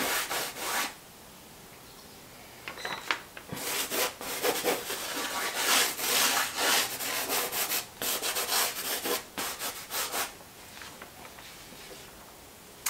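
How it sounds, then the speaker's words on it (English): Charcoal rubbed and smudged with fingers across drawing paper, giving soft, close, dry rubbing strokes in irregular bursts, with brief pauses between passes. "Just loosening things up with my fingers, smudging it in it"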